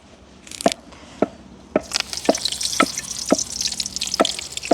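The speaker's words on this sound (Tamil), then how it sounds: "அதையும் நாங்கள் அப்படியே எண்ணெய்க்க போட்டு பொறிச்செடுப்போம்" Washed curry leaves dropped into hot oil in a village kitchen, crackling in a run of sharp pops and sputters that thicken into a steady close sizzle.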